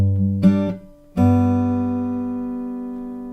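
Acoustic guitar plays the opening of a song, a picked bass note and brushed upper strings followed by a fuller struck chord left ringing and slowly decaying, close and alone.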